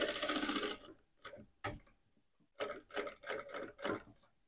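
A sewing machine stitches a teddy bear backpack in short bursts of rapid mechanical whirring, separated by pauses and a small click, close and fairly quiet.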